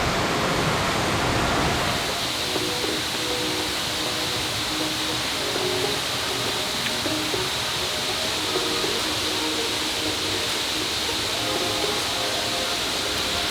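Waterfall cascades tumbling right beside a steep, damp Appalachian Trail section in New Hampshire's White Mountains after rain, a loud, steady rushing roar close by that fills the whole stretch without letup.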